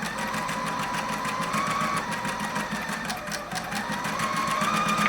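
A sewing machine fitted with a quarter-inch foot stitches a quilt binding strip, a steady, close, continuous mechanical whir with a regular rapid needle rhythm running throughout.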